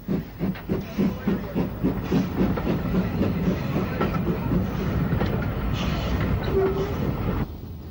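Freshwater, a British Railways 044 tank locomotive fitted with motor fittings, pulls away on the Isle of Wight line, with a steady chuffing rhythm, clanking wheels and steam hiss that hold strong, then ease off in the final second.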